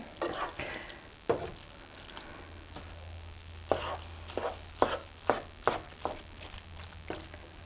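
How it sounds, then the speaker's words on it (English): A hamburger casserole mixture is stirred with a series of close scraping and thudding strokes in an uneven rhythm, over a low background hum. "I think that is stirred up enough"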